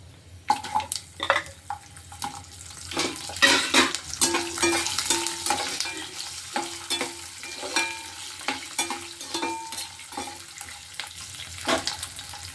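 Garlic cloves dropped into a pan of oil with fried dried turkey berries over a low flame, crackling and sizzling under frequent clattering stirs and scrapes of a spoon, close and fairly loud.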